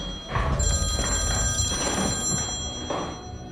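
A telephone rings in a movie scene, its bell tone repeating steadily over a dense, fairly loud background for a few seconds, with no one talking.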